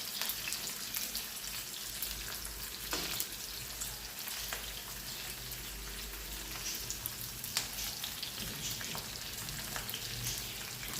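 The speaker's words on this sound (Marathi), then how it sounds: "5 ते 7 मिनिटं आपण कांदा भाजून घेऊया।" Onions fry in a wide pan for Kolhapuri shahi palak paneer, giving a dense, continuous crackling sizzle with scattered sharper pops, steady and close, with no talking.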